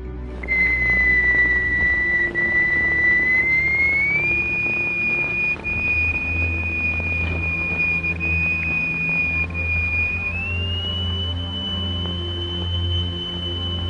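Steady electronic tone driving a triangular vibrating plate with a crystal attached underneath, a loud pure whistle-like pitch that steps upward twice, sustained throughout over a low hum.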